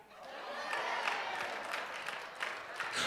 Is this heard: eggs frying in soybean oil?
no